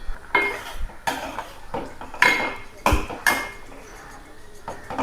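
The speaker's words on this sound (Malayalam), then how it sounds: "മാമ്പഴം നന്നായിട്ട് വെന്ത് കിട്ടിയിട്ടുണ്ട്. ഒന്ന് ചെറുതായിട്ടൊന്ന് ഇളക്കി കൊടുക്കാം." A spoon stirs cooked mango pulissery in a metal cooking pot, giving a series of distinct clanks and scrapes roughly once a second, close and moderately loud.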